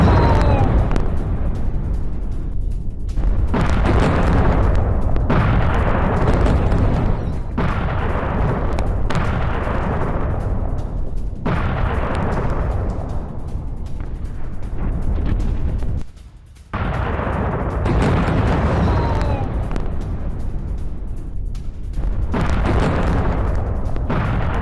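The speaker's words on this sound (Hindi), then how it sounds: "इजराइल के एयर स्ट्राइक के बाद जोरदार धमाका हुआ है" Loud, rumbling explosion-like booms roll one after another from an Israeli air strike, dense and close, with sharp bursts breaking through a continuous deep roar and a brief lull midway.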